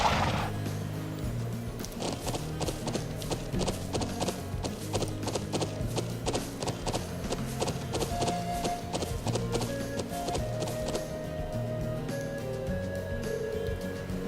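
Horses in the Trails of Cold Steel game give off steady, rapid clip-clop hoofbeats over background music, continuing evenly throughout and fairly prominent, with no one speaking.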